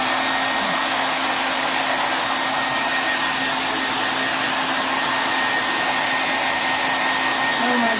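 A hair dryer blows over a painted wood cutout craft piece, a loud, constant whooshing whine with a steady motor tone running the whole time, alone without talk.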